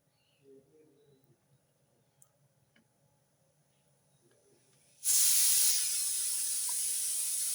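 Steam bursts out with a loud, steady hiss from a coconut-shell puttu steamer cooking puttu layered with grated coconut, after a stretch of near quiet with faint kitchen clicks.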